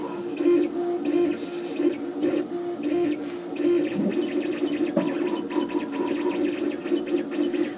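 A scratch-built DIY 3D printer loads filament with a continuous mechanical whir and hum, its motor pulsing and wavering in pitch, heard up close with no talking.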